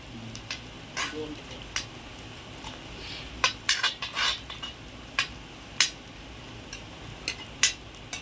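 Onions sautéing with salt in an iron kadai for chicken chukka, with a spatula scraping and clinking against the metal in sparse, irregular strikes over a faint background hiss, fairly quiet and close.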